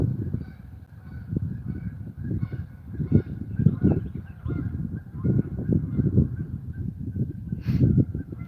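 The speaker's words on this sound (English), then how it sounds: "Loud geese." Geese honk loudly and repeatedly in spring pairing season, a string of close, harsh calls in an irregular rhythm near a fishing spot.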